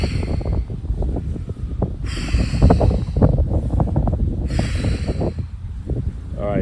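Outdoor breeze buffets the microphone in low, rumbling gusts that rise and fall continuously, with close breathing and snort-like exhales mixed in.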